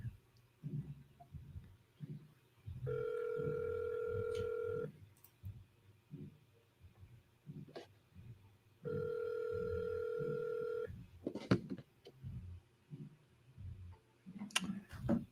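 An outgoing phone ringback tone sounds twice, two long steady electronic rings separated by a pause, with soft background rustling and thumps.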